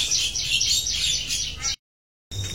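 Dense, continuous high chirping from several white-rumped shama chicks in a breeding cage, loud and close, cut off by a brief silence before the chirps resume.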